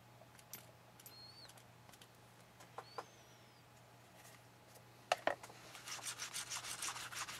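Soft, intermittent rubbing and scraping sounds up close as lubricant is rubbed onto a steel rifle cartridge case for reloading, building to a denser rhythmic rubbing near the end, with faint bird chirps in the background.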